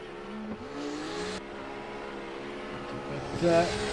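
Drift battle with a Nissan S15 and a BMW, engines droning and revving at a distance with tonal whine shifting pitch, a brief tire-squeal-like burst near the end, crowd ambience faintly underneath.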